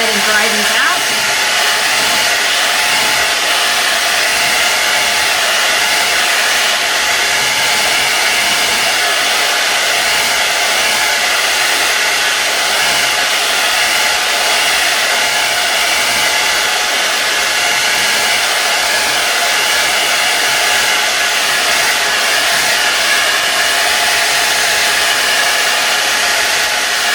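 Hair dryer blowing continuously over wet acrylic paint, a loud, steady whooshing drone that runs unbroken throughout with no talk.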